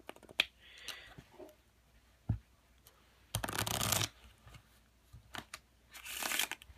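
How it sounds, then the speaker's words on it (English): A deck of playing cards is shuffled up close: quiet flicks and taps, then a brief riffle burst, followed by a second dense riffle near the end, with small handling sounds between. "First, I'm going to give the deck a quick shuffle."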